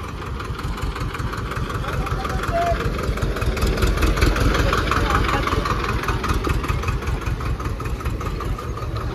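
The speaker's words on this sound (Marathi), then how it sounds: "हा ट्रॅक्टर आला आहे" A new tractor's engine idles close by with a low, continuous rumble, while people talk over it throughout.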